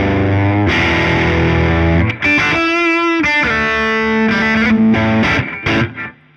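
A Fender Acoustasonic guitar plays sustained distorted chords, loud and dense with a brief break near two seconds, then rings out and fades toward the end; no voices.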